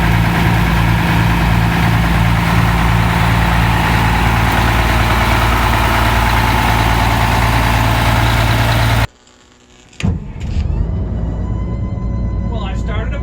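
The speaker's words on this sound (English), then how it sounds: "Well, I started a bus." A bus engine idles after starting, a steady loud low rumble lasting about nine seconds before cutting off abruptly, followed by quieter clatter and movement.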